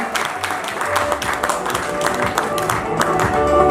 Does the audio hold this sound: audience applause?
yes